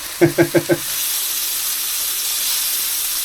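Food cooking at a campsite, with four quick clicks at the start and then a steady, loud sizzle and hiss of frying that carries on alone.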